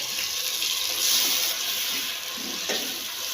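Water pours steadily into a cooking pot while making Punjabi kadhi pakora, a continuous splashing wash with a slight swell midway, close and fairly loud.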